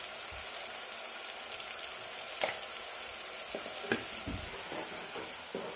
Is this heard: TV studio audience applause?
no